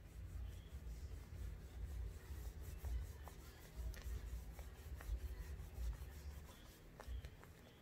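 A hand rubs heat transfer vinyl onto fabric as it cools, a faint, steady scrubbing hiss with small ticks and taps scattered through it, close and quiet, with no talking.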